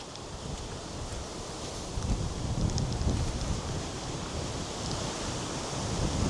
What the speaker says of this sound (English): Now it's getting quite windy here